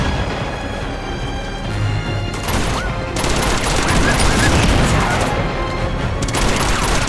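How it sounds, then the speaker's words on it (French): Sustained gunfire in Uncharted 2, a dense fusillade of rapid shots with booming impacts filling the whole stretch, loud and continuous with bursts intensifying midway. "Ah, il tire encore."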